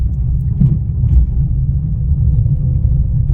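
A car creeps along slowly in first gear during a driving practice session, a steady low engine rumble holding at close range throughout with no revving.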